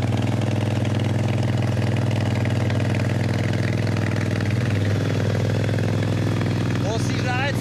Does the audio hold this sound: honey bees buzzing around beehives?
no